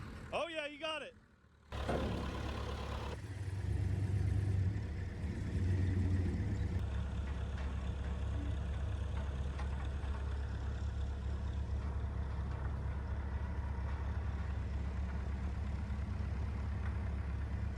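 The engine of a lowered 1984 Chevrolet C30 squarebody dually truck starts and then runs with a steady, low, rumbling idle that continues, with a brief voice at the very start.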